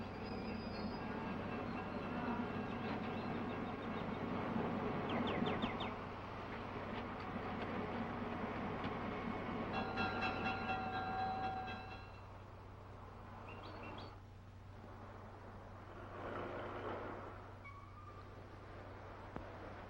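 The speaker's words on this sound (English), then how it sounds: "there's my train" A train at a station in 1960, a sustained rumble of railcars with metallic clanks and high wheel squeals, fading somewhat in the second half, with no voices.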